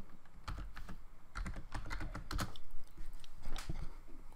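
Quick, light taps on a computer keyboard as a search term is entered, irregular clusters of close clicks with short pauses between them, no voices.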